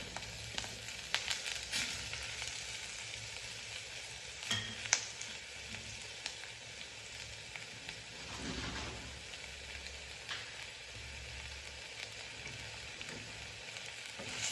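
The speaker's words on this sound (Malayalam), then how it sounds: "നമ്മൾ നന്നായിട്ട് പച്ചമണം മാറുന്നത് വരെ ഇളക്കി കൊടുക്കാം" Crushed shallots with ginger, garlic and a pinch of salt sautéing for a Kottayam-style fish curry: a steady, close crackling sizzle with occasional stirring scrapes and taps against the pan.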